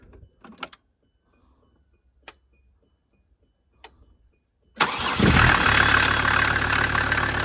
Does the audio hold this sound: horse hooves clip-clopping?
no